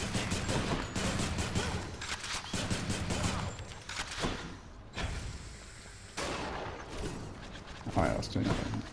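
Rapid bursts of gunfire in the action game Hades, dense repeated shots alongside combat effects and a busy soundtrack, with someone talking over the action throughout.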